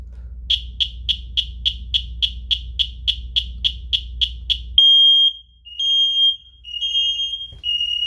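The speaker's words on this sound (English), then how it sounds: "let's go ahead and do the smoke detector next" A DSC wireless photoelectric smoke detector in fire alarm mode sounds a loud, rapid series of about a dozen evenly spaced high beeps over a low hum, then shifts into several longer sustained tones.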